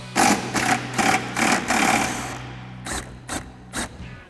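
A ratchet with an 8mm socket backs a bolt out of a Bronco's chassis ground at the top of the firewall, giving rapid bursts of clicking, several close, loud runs with short pauses between, with no voices.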